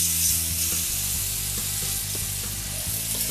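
Chicory sizzles steadily on an oiled barbecue grill, a dense, loud crackling hiss that runs throughout without a break, with a low background hum underneath.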